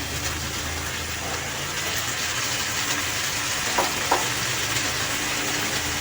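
Bottle gourd curry with poppy seed paste sizzles steadily in a pan while being stirred, with a couple of light scrapes or taps partway through and no one talking.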